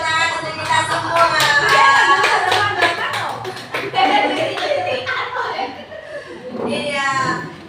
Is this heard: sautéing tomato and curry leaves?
no